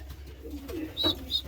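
Pigeon cooing nearby, a soft low coo followed by a couple of brief higher calls, heard alone without talk.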